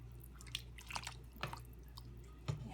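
Homemade chicken soup stirred in a pot, giving soft wet squelches and light drips, with a few brief louder sloshes spaced across the moment over a low steady hum.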